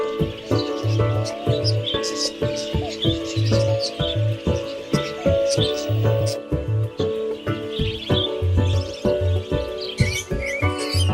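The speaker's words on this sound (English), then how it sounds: "The boisterous rainbow lorikeets are some of the most sociable, noisy, and acrobatic of parrots" Rainbow lorikeets, noisy sociable parrots, give a busy stream of sharp chirps and squeaky calls, with repeated low pulsing tones running beneath and a steady background hum.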